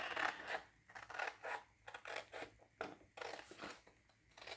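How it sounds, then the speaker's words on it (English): Scissors snip through paper in a run of crisp, close cuts, some quick and some spaced apart, with no talking. "I'm going to just grab my scissors and quickly"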